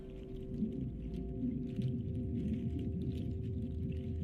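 Low, drawn-out whale calls drone steadily beneath a constant underwater rumble, with faint higher clicks and squeaks scattered across the background throughout.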